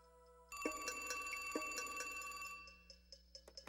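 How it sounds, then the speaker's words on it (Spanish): A telephone bell rings in a sustained, shrill burst that starts abruptly and holds for about two seconds, then breaks into short trailing rings, clear and close with no voices. "Luego, de forma inesperada, recibió una llamada."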